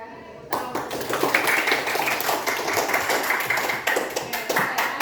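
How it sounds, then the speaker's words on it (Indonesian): A classroom group claps hands together on cue, a dense burst of many hands that starts abruptly and runs steadily for several seconds, close and fairly loud with a few sharper taps. "Tepuk tangan."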